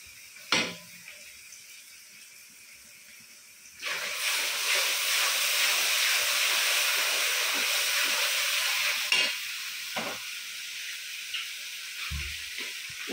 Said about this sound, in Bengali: এই যে মাংস রান্নার জন্য পেঁয়াজটা বসাই দিয়ে দিচ্ছি, মশলা দিয়ে দিচ্ছি